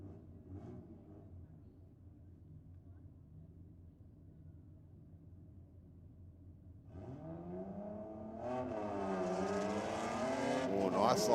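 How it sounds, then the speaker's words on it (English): A BMW hatch and a Falcon Ute line up for a drag race at a Sydney drag night, engines idling low before a rising roar of acceleration takes over, with revving climbing steadily louder toward the end. "Next up, a little BMW hatch taking on the Falcon Ute."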